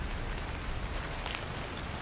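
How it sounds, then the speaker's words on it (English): Steady rain falls in the Cairn climbing game, a dense, even hiss of drops with no other sounds and no talking. "It's raining"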